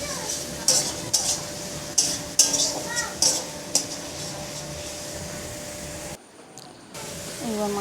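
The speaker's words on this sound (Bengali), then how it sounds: "কালারটা কালচে কালচে ভাব এলে কাজু কিশমিশ দিয়ে দিচ্ছি।" Cashews and raisins go into a hot pan for chicken biryani, giving sharp sizzling bursts and crackles in repeated pulses close by, then a brief lull before the frying resumes.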